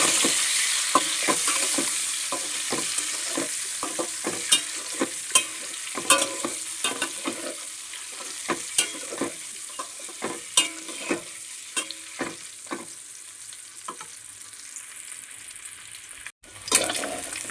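Fried eggs in a pan are mixed and stirred, producing a steady loud sizzle with frequent sharp spatula scrapes and taps in an uneven rhythm, close up.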